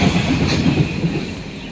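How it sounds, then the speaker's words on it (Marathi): A train rolls over a bridge above year-round water near a forest, producing a steady, loud, close rumble with rhythmic clickety-clack of wheels on rails and no voices. "वरून ट्रेन जात होती आणि होय बघा खाली पाणी आहे"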